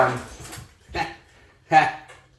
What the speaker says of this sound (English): off camera, I got our dogs eating our cat's food